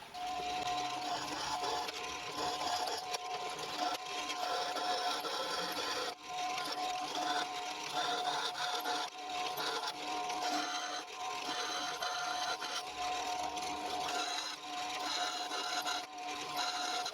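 Bandsaw with a freshly fitted blade cutting metal stock slowly in a home machine shop, giving a steady grinding, rasping drone with a faint whine that runs continuously and evenly throughout.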